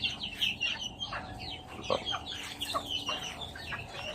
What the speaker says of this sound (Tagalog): So yan po ang ating mga alagang sisiw po.